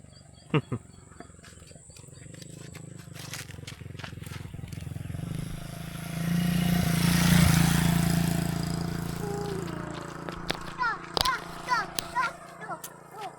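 A motorcycle passes by, swelling to a broad rumble in the middle and fading away, while nearby voices talk and birds chirp faintly.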